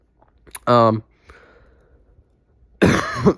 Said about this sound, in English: I'm kind of sick, so I've been coughing a little bit still.